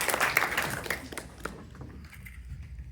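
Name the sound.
applause for a panel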